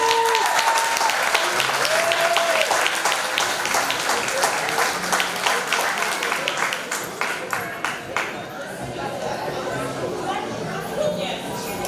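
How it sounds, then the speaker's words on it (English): Audience applause at a pre-K graduation ceremony, loud sustained clapping from a crowd with some chatter mixed in, gradually thinning toward the end. "Let's give her a round of applause."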